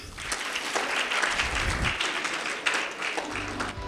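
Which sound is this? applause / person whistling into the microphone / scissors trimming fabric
applause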